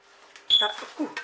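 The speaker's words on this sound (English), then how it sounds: "that's the alarm in the kitchen telling us the battery's running down" A kitchen smoke alarm gives a single short, high chirp warning of a low battery, heard indoors just before a person speaks.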